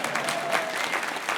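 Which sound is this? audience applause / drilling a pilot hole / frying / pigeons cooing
audience applause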